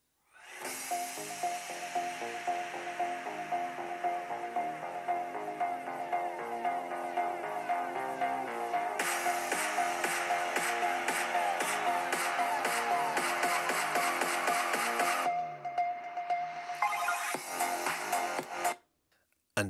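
Samsung Galaxy Book4 Pro 360 16-inch 2-in-1 laptop speakers playing music at 50% volume, a steady, continuous stream of sound with a bright, rhythmic texture that thins out briefly before ending.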